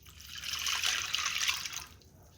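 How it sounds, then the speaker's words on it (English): Whole milk pours into a pot on the stove as a soft, steady liquid hiss that swells and fades over about two seconds, with no speech. "We're going to add in 1 cup of white chocolate chips and 1 cup of sweet milk,"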